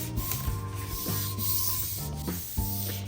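A hand rubbing across the textured white plastic of an Eternal Tiare Proplica, a close dry scraping swish in repeated back-and-forth strokes with a few soft knocks, no talking.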